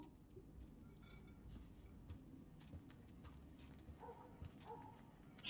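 A bird in the video game Life is Strange gives faint, low cooing and soft fluttering scuffles against a quiet background, with a few brief louder notes near the end.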